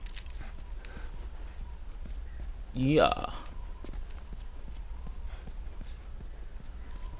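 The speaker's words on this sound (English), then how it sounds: "Slap the horse on the butt." Horse hooves clip-clopping at a steady walking pace in the video game The Last of Us, quiet and continuous under a player's voice, with a short snort or whinny partway through.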